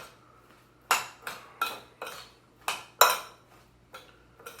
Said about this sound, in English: Just kind of make a brine right here in the bowl.